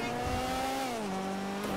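A car braking hard into a sharp curve in the video game GTA V, the engine note sliding downward as it slows, loud and close for a brief moment with no speech.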